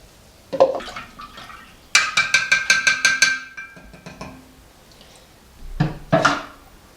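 Kombucha tea is stirred in a glass jar: a short clink, then a quick run of bright rhythmic glassy taps and scrapes, and a final pair of clinks, close and fairly quiet.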